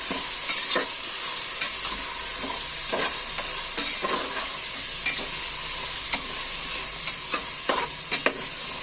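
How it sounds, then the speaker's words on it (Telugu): Peas, carrots and beans stirred in a sizzling pan, with a constant frying hiss and irregular spoon scrapes and knocks throughout, close up with no voices. "బఠానీ, క్యారెట్, బీన్స్ మొత్తం అయితే వేసేసి ఒకసారి అయితే మిక్స్ అయితే చేస్తున్నా."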